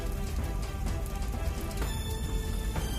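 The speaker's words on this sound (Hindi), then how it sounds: "होटल में आग लगते ही बारिश हो गई।" Steady rain falls on surfaces during a hotel fire, a dense continuous patter with no voices, holding even through the whole stretch.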